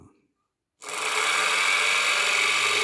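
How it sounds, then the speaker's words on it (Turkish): A small electric motor connected to a battery starts after a brief silence and then whirs continuously with a steady, high-pitched hum, close and fairly loud. "Motor görmüş olduğunuz gibi rahat bir şekilde dönmekte."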